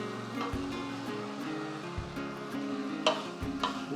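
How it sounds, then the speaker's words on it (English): Chilli con carne with beef and pancetta sizzles and bubbles in a pan, a steady soft frying hiss with occasional scraping stirs, no voices. "let it cook down, let it soak up all that fond that's in the bottom of the pan."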